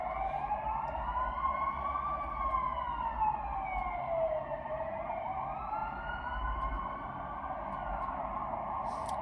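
A passing fire engine's wailing siren rises and falls slowly and continuously, loud and steady, over a low rumble of engine and traffic.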